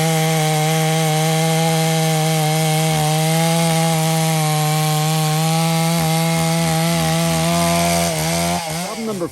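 A NeoTech 872 gas chainsaw runs loud and steady right up close as it cuts through wood, its engine holding a constant buzzing drone with small dips in load. Near the end the pitch drops sharply, and there is no talk.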